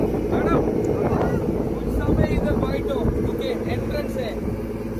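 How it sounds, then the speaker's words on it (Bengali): A boat heads to Bangaram island in Lakshadweep with a steady engine rumble and wind buffeting the microphone, while people talk over the noise. "আজকে আমরা বোট সফর করছি, বাঙ্গারাম যাচ্ছি।"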